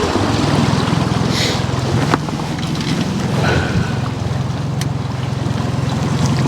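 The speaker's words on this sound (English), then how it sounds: "Spin the boat around." Steady boat motor drone with wind buffeting and water wash as the boat turns around on a shallow stretch of the Cowlitz River, a low engine rumble running continuously throughout.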